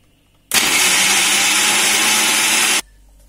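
Electric mixer grinding soaked chickpeas with ginger for an Indian dish, a loud steady whir that starts abruptly, runs about two seconds without a break, then cuts off into near silence.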